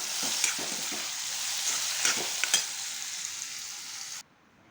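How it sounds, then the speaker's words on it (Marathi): Steady sizzle of finely chopped ridge gourd sautéing in hot oil tempering, with a few stirring scrapes, ending abruptly. "हे बारीक चिरलेले दोडके ते टाकले फोडणीमध्ये परतून घेतले व्यवस्थित"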